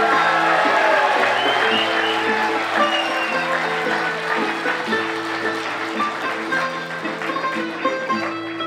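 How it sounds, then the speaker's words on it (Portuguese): A street crowd at a cantoria night in Hilmar claps loudly and steadily, the dense applause continuing throughout over sustained musical tones. "Vou pedir ao povo agora muitas palmas para as pontinhas."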